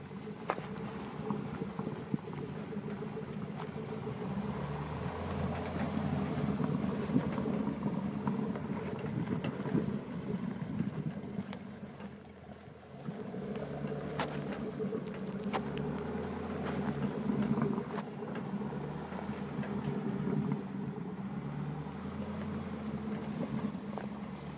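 A Legacy Classic Trucks NAPCO Chevy truck driving off-road, heard from inside as a continuous low engine rumble with scattered bumps, knocks and rattles over rough ground.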